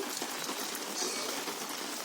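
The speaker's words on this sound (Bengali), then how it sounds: "বৃষ্টি কিন্তু খুব জোর পড়ছে না হালকা হালকাই পড়ছে" Steady light rain patters on surfaces, an even, close hiss with no voices.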